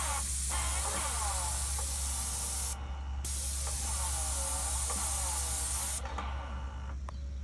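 A Graco airless paint sprayer fitted with a tip extension and swivel coats a building wall from about a foot away, giving a steady loud hiss that breaks off briefly twice before resuming.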